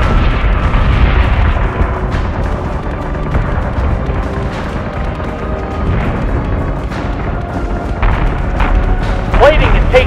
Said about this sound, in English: Sustained incoming. Sector 4-4. We're taking sustained fire!